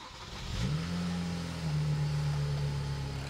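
A BMW 335i with the twin-turbo N54 engine cranks and fires up, the revs flaring briefly before settling into a steady, loud idle that runs alone, close by.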